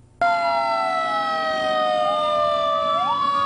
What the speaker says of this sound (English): Sirens in celebration fill a neighborhood in Cressona.